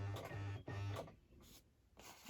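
Sewing machine stitching through altered packaging made into an envelope, with quick rhythmic bursts of whirring separated by short pauses, close and fairly quiet, with no talking.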